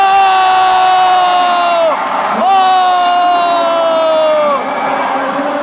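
Supporters cheer loudly at a Lao volleyball match at an army sports festival. Sustained crowd roaring and whooping carries long, wavering horn-like tones that slide down in pitch, with an announcer's voice over the noise.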